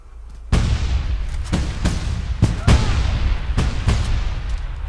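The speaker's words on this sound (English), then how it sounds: "Grenade." A grenade explodes in Frontlines: Fuel of War multiplayer, one loud boom followed by several more sharp blasts and gunfire cracks in an uneven run amid battle noise.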